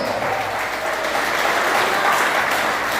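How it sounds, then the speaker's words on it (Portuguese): Dense, steady applause from a church congregation during a Friday worship service, loud and continuous throughout with no pauses. "aplaude o nome de Jesus."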